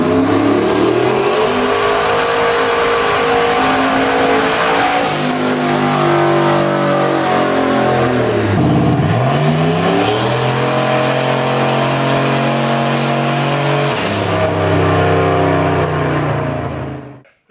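A cammed WS6 engine roars on a single-axle Dynojet dyno, revving hard in long sustained pulls with a brief drop and re-rev in the middle, loud and close before cutting off at the end.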